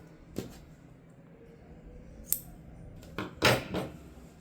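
Scissors snip through crochet yarn at the end of a puff-stitch crochet bag, giving a few short, sharp metallic clicks spread over a few seconds, the loudest cluster near the end, close and fairly quiet with no talking.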